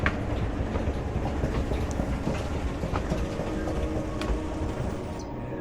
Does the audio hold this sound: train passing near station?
yes